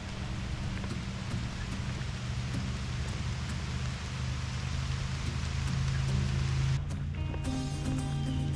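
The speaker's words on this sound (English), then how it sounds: "we are officially 3 for 3 in getting rained on so far this trip" Rain falling on a hiking trail in Newaygo State Park, a steady dense hiss of drops near and all around, with a shift in texture toward the end.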